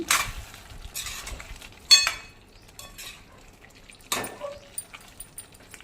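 A utensil stirs chicken curry with coconut powder in a pan, giving scattered scraping knocks and clinks with quiet gaps between them, close and moderately loud.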